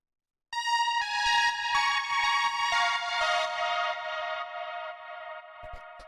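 A bright synthesizer lead plays a simple melodic line in a progressive melodic house style, sustained harmonic tones stepping through a few notes over about six seconds, loud and alone, with a brief percussive tick near the end.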